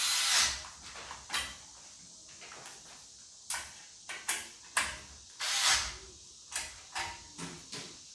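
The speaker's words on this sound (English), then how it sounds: "Do not hold your drill too tight. You do not want to strip out your bolts." A power drill drives bolts while a tiltable table is assembled, heard as a series of short whirring bursts of varying length with brief pauses and clicks between them, close by and moderately loud.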